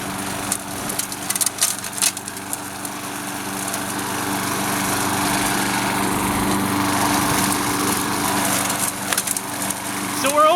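A Craftsman 6.75hp lawn mower runs steadily while mowing a suburban lawn, its engine drone close and constant throughout with a slight rise in the middle and small rattles near the start.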